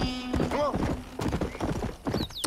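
Horse hooves clip-clopping in the western game Red Dead Redemption, a quick irregular run of close hoof strikes with a whinny near the start and brief talk mixed in.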